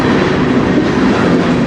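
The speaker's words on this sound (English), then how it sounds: "Got a train coming out of the tunnel." A CN freight train rolls out of a tunnel on the Strathroy Sub near Sarnia, with a steady, loud rumble of wheels and railcars and some clickety-clack continuing throughout, close by and without talk.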